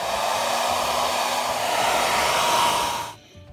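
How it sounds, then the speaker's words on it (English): A hair dryer blows steadily and loudly, close up, while drying gallery glass paint on a dinner plate, then cuts off abruptly near the end. "We'll dry it a little faster with a hair dryer,"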